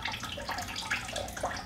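Rinse water poured off quinoa in a pot splashes and trickles steadily for a moment, a soft, close, continuous watery rush with no talk.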